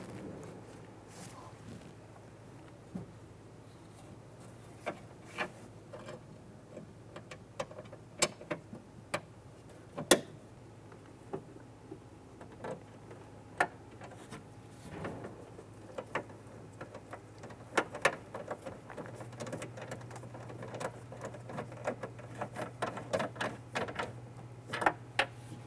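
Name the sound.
installing and tightening nuts on Ford Explorer window regulator bolts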